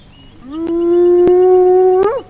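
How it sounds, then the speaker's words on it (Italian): An African hyena gives its well-known howling call, a single loud rising whoop that holds steady for well over a second before bending upward and breaking off, with a few faint clicks around it. "Il richiamo più conosciuto è l'ululato"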